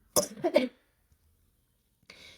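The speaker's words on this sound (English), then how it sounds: "I cannot get over this cough" A single harsh cough bursts out up close, followed by silence and then a short breathy exhale.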